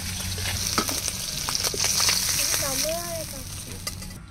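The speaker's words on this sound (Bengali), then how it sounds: "মাছগুলো ভাজা হয়ে গেছে, এবার তুলে নেব।" Pieces of fish frying in hot oil, with a busy, continuous sizzle and crackle close by, while a voice is heard faintly over the frying.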